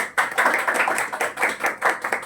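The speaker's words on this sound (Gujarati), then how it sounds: "સમગ્ર હોસ્પિટલને એકવાર આપણે તાળીઓથી વધાવશું." Clapping for a hospital fills a gathering in Surat, a steady burst of many hands at close range lasting the whole short stretch with no talk.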